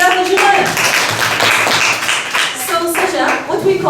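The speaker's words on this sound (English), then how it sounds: "Amazing, fantastic, big clap for Jumana." Children in a classroom clap in a burst of applause, the clapping mixed with excited voices talking and calling out over it.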